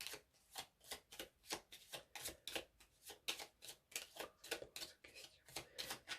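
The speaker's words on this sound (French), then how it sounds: "je vais mélanger les cartes" Tarot cards being shuffled by hand in a steady run of crisp, rapid riffling bursts, fairly quiet and close, with no voices over them.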